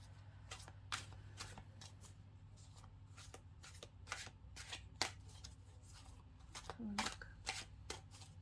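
Tarot clarifier cards being shuffled by hand, soft, quick riffling flicks in a loose, uneven rhythm, close and quiet.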